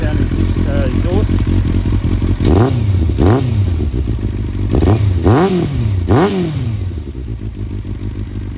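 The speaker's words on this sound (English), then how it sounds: "I like the sound of this exhaust." A finished Kawasaki ZX9R build runs through its exhaust, idling with a steady rumble and blipped several times into sharp revs that quickly drop back, close and loud, with someone talking over it.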